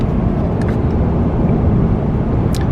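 A 2023 Toyota Tundra SR pickup driving on a slick, icy winter road, with a steady, loud low engine and road rumble throughout and a few faint high clicks near the end.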